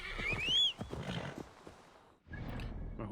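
A horse whinnies in the Ni No Kuni video game, a high rising neigh followed by snorting and rumbling, then a short pause and a lower steady rustle, close and fairly loud.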